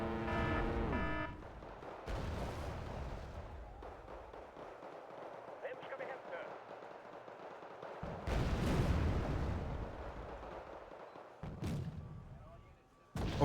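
In a video game, mortar rounds land as a few heavy booming bursts spaced several seconds apart, over a quieter background of game ambience.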